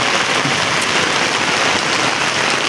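Steady rain pours down on a town street outside a sweet shop, a dense continuous hiss of drops hitting surfaces with no voices heard.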